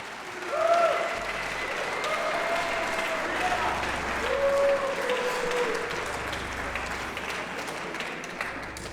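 A hall full of people at the Revision 2025 demoscene party applauds an award winner: steady, dense clapping that holds at an even level for several seconds, with faint crowd murmur underneath.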